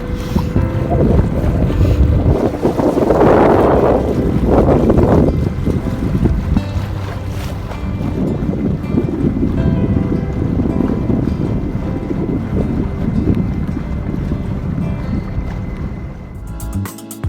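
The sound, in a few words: wind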